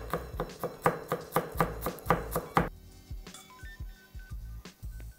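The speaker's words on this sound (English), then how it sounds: "Just gonna give the leaves a chop as well. You want to chop them finely." A knife chops leaves finely on a cutting board, giving a quick, steady run of sharp, evenly spaced strikes that then ease into softer, sparser taps, close up with no talking.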